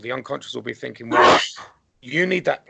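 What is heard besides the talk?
sneeze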